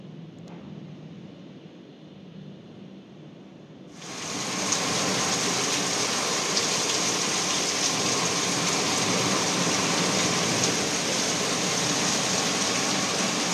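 Heavy rain hits an outdoor terrace, starting as a softer patter and then swelling after about four seconds into a loud, dense, steady roar of downpour that continues to the end with no talk.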